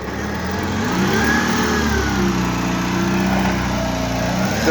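A newly fitted Toyota four-cylinder engine idles steadily in a 1.5-ton forklift, a close, even mechanical drone with a slight rise in pitch and no speech.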